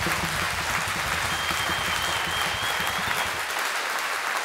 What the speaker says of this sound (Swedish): stor applåd just nu